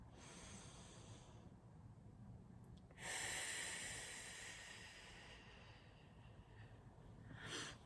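Slow, deliberate breaths during a gentle neck stretching routine: a soft airy inhale and longer exhale, with a louder nasal exhale midway and another near the end, close and alone with no talk.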